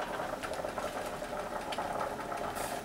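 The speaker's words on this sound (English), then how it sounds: "Now that the soup is boiling" Squash soup with dill bubbles steadily in a pot, a dense continuous simmering hiss with small pops, close and moderately quiet, with no talking.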